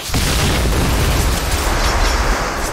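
In a video game match, a grenade goes off as a loud, dense blast that stays full and rumbling across the whole stretch without any talk.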